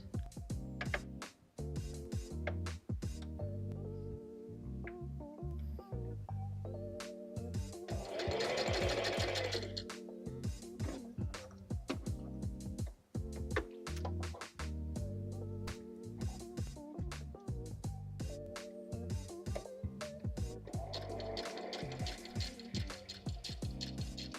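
A sewing machine stitches through a handmade junk journal, running in a continuous rapid mechanical chatter with a couple of short stops, close and steady, with no talking.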